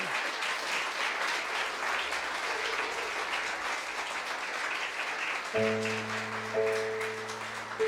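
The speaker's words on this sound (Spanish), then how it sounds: "creo que le puedes dar un mejor aplauso a Él" A church congregation gives sustained applause, an even spread of many hands clapping, joined near the end by sustained keyboard or organ chords.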